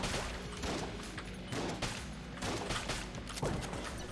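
Rapid gunfire from the video game Enter the Gungeon, bursts of shots arriving in repeated volleys over steady game background noise, loud and continuous without speech.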